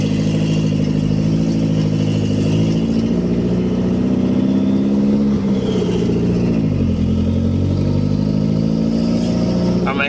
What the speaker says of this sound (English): Hopefully you can hear me over this loud car.